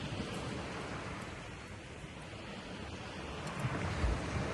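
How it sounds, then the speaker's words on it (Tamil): Sea waves wash onto a beach in a continuous, broad rushing roar, with a slight swell near the end and wind noise over the microphone, and no voices. "இந்த கடல் சத்தம் அதெல்லாம் நல்லா இருக்கு"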